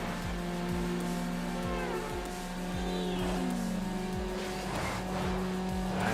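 A Toyota Supra and a Subaru race with nitrous in Need for Speed Underground, their engines droning and revving steadily up close, with rhythmic gear-shift pulses and a rising whine over continuous road noise.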